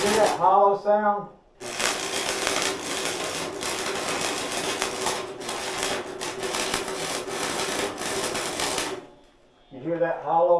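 Arc welding on a pipe with a hole burned through it, a steady loud crackling sizzle lasting several seconds, framed by talking before and after.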